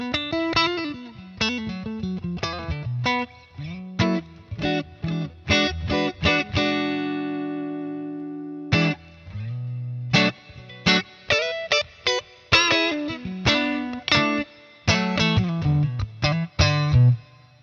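Eart NKC3 electric guitar with warm high-output pickups, played through distortion and effects: a run of punchy chords and single notes with a couple of long sustained tones, loud and steady with no voices.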